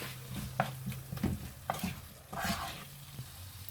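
Spices including kitchen king powder and vegetables are stirred in a hot pan for tofu makhani, with a soft continuous sizzle under repeated scraping strokes of a spoon, close and quiet.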